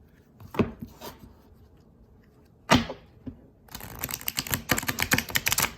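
A tarot card deck is riffled in a quick, dense burst of crisp fluttering clicks, close up, following a few scattered taps and one sharp snap.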